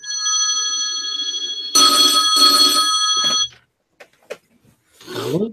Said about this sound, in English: Just wait for the phone to ring.